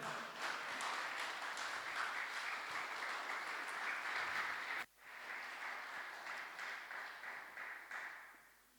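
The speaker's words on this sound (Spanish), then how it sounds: "Dele un aplauso al Señor." A church congregation applauds steadily and loudly, dense clapping that breaks off sharply for a moment, then resumes and gradually fades.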